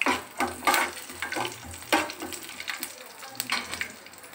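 Garlic fries in a pan for coconut rice, a close crackling sizzle punctuated by irregular scraping stirs and clinks of a spoon against the pan.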